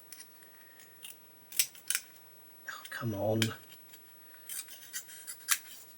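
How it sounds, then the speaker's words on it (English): A small pair of scissors snips paper on a model-building bench, with several short sharp cuts and rustles scattered across the clip, close up, and a brief muttered remark in the middle. "Let's grab a little pair of scissors a minute and just cut this"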